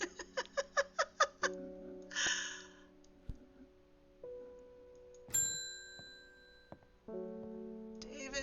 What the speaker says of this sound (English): Listen, if you touch the cat, she purrs.